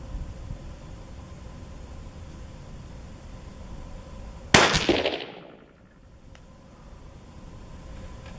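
A single sharp .17 HMR rifle shot fired at coins 100 yards away cracks out midway over a steady outdoor hiss, then rings briefly and fades.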